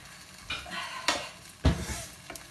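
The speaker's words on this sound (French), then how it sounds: "Je vais la tourner et la remettre à cuire." A flipped tortilla cooks in a pan, with a soft sizzle broken by a few distinct scrapes and knocks of the utensil against the pan, quiet and without talk.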